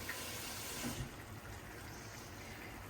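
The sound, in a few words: water added to turkey berry curry pot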